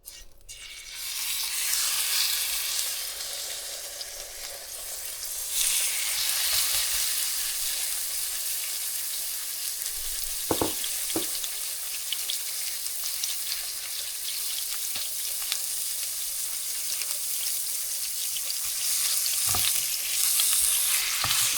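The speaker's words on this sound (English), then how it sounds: "So we'll be putting that into the pan and cooking it about 5 to 6 minutes per side" Chicken sizzles in a pan of garlic butter, a steady bright frying hiss throughout with occasional scraping knocks from stirring, and no talking.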